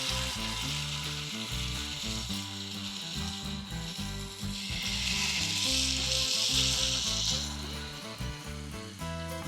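Chicken malai kababs frying in hot ghee give off a loud, continuous close sizzle that swells in the middle and never stops, with faint stirring underneath.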